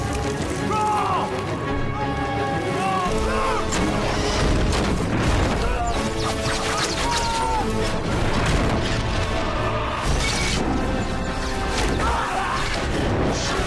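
Battle scene from the film Gladiator, with catapults and fire: a dense, continuous wall of booms, crashes and clanking mechanisms, loud throughout, with shouting voices scattered in the mix.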